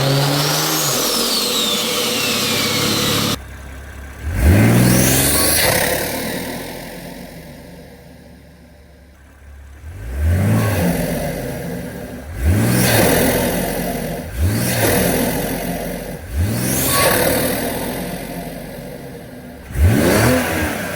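A BMW X3 M40i with its B58 engine and a CTS intake revs repeatedly, with a long opening drone followed by a series of sharp, loud rev blips that climb and fall, each spaced a couple of seconds apart.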